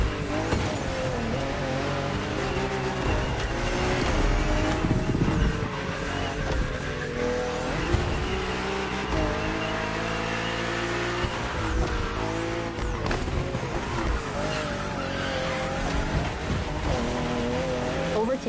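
BMW M2 and M4 race cars from The Crew Motorfest video game roar continuously with rising and falling engine notes and occasional tire squeal on a narrow, twisty road, loud and sustained, with a voice talking over them.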